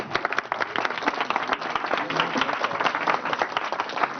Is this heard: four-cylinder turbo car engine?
no